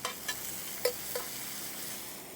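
Zucchini stirred over high heat in a hot pan, a steady soft sizzle of frying with a few light clinks and scrapes of the utensil, heard alone and fairly quiet.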